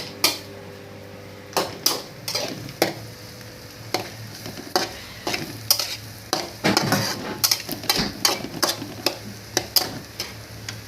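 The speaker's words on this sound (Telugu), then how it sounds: "అదే నూనెలో రొయ్యలతో కలిపేసి బాగా కలుపుకొని బాగా ఎర్రగా వేగాలండి ఉల్లిపాయలు అవన్నీ కూడా" Prawns frying with onions in oil, a soft continuous sizzle under repeated sharp stirring clacks and scrapes of a spoon against the pan, irregular and close, without speech.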